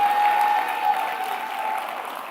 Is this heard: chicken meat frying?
no